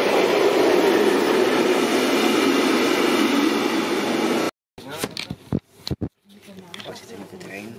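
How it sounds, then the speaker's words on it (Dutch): A train roars steadily into a station for several seconds, loud and broadband, then cuts off abruptly, followed by a few clunks and a voice speaking. "Maar dat is onze trein."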